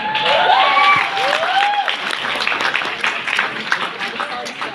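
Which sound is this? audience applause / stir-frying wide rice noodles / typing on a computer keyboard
audience applause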